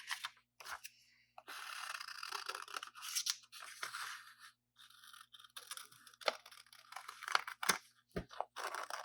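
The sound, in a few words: scissors cutting out paper design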